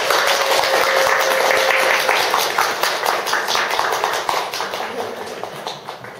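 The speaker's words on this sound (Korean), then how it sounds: "박수 한번 부탁드리겠습니다" An audience at a Daegu storytelling event applauds during an award presentation. Many hands clap in a thick, even patter that gradually thins and fades toward the end, with no talking.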